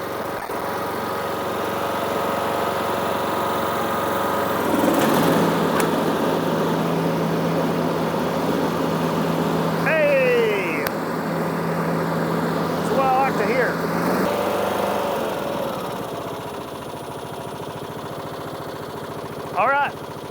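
Husqvarna YTH 21 K46 riding lawn mower engine running steadily after a deck belt replacement, a loud, close, constant drone that holds its pitch. Its note rises and falls briefly with a few squeaks.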